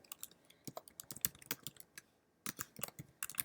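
Quiet, close clatter of a computer keyboard as a project name is typed, with irregular bursts of sharp key taps, a short pause midway, then more rapid keystrokes.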